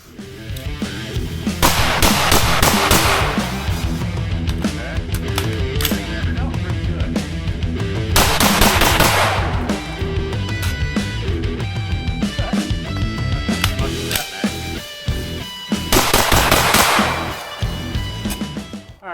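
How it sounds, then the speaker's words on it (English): An LWRCi IC A5 10.5-inch piston-driven rifle fired in 5-round strings during outdoor speed and accuracy drills, three loud bursts of rapid, closely spaced shots separated by pauses. "these are all 5-round shots aimed at the larger circle on the right"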